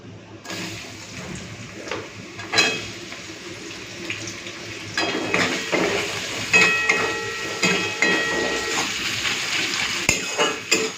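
Chopped onion frying in hot oil with whole cardamom, cinnamon and bay leaf: a steady close hiss with scattered clinks and stirring knocks throughout.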